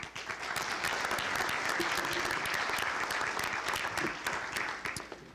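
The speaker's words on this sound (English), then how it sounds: "You deserve a big round of applause for today." Sustained audience applause at an economic development announcement for Press Glass, many hands clapping in a dense, even wash for about five seconds, tapering slightly at the end.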